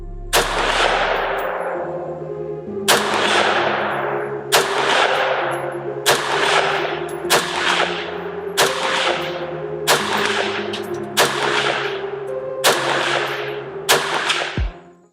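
Rifle shots fired through a Banshee 2-10x30 scope crack out one by one, about ten sharp, loud reports spaced a second or so apart, each trailing a short ringing decay.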